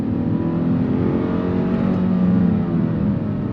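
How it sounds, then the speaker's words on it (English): A 2022 Kia Stinger GT-Line with an 8-speed transmission accelerates hard toward redline, its engine note a loud, steady, rising drone from inside the car, uninterrupted and without talk. "On throttle, here we go. Pulls all the way to red line."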